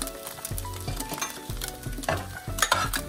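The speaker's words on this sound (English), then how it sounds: "This time we're gonna add the rice." Rice stirred and fried in a pan for Chinese fried rice, giving a steady sizzle broken by scraping stirs and clinks of the utensil, close and moderately loud.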